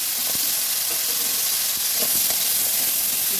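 Fish frying in oil with small chopped onions, giving a steady, close sizzle and hiss that runs throughout with no talking.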